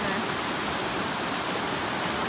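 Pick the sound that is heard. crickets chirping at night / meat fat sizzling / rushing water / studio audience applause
rushing water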